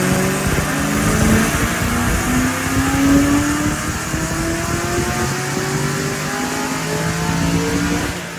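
Supercharged Ford Mustang running on a chassis dyno on its first boosted pull, the engine note climbing steadily in pitch as it revs hard and loud throughout with no talk.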